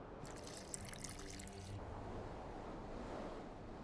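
Water poured into a flask for alchemy in The Witcher 2, a faint, brief splashing trickle lasting about a second and a half before dropping to quiet ambience.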